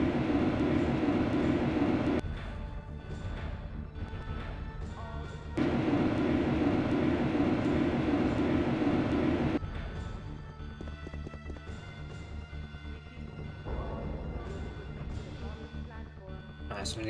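Train in the 1998 video game Resident Evil 2 rumbling with a loud, steady roar that drops away around the two- and ten-second marks, then continues as a quieter clatter.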